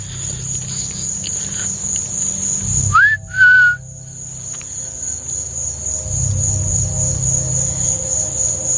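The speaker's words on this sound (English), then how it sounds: "I think I just heard a whistle." A short rising whistle, then a brief steady tone, sounds once at night in a cemetery, clear over a constant high cricket drone and low background hum.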